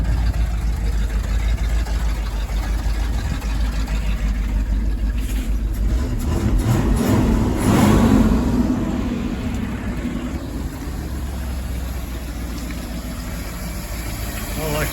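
A Ford F-250 pickup, previously locked up, runs with a steady, rumbling idle close by. The engine note swells briefly around the middle, then settles back to an even, continuous drone.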